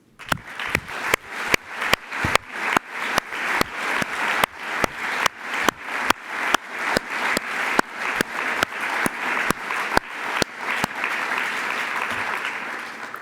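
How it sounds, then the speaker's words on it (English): Graduation ceremony audience breaks into a big round of applause, loud and sustained, with a strong rhythmic unison clap pattern through most of the stretch before dissolving into a dense, even wash of clapping. "So for them, a big applause."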